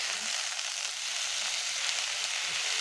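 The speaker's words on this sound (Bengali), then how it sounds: "এখন আমি এর মাঝে শাকগুলোকে ঢেলে দিব" Jute greens sizzle in a hot pan, a steady, loud, even hiss of frying with no breaks.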